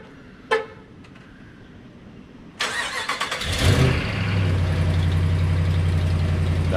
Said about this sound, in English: that is not a lifter tick, that is an exhaust leak